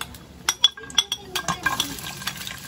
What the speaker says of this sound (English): And for guys, you have to put the garlic now.